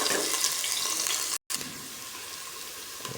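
Chopped onion and garlic hit hot oil in a pan and fry with a loud, steady sizzle and crackle, a brief dropout breaking it partway before the hissing continues unbroken.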